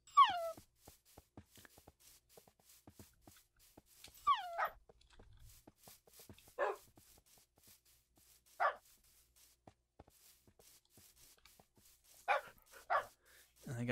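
Several short, sharp dog barks from the Minecraft video game, spaced in separate bursts across the stretch, with game sounds and a little talk between them.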